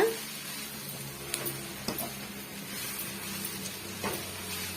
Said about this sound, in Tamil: சீக்கிரமாகவே இந்த முருங்கைக்கீரை வதங்கி வந்துடும் பாருங்க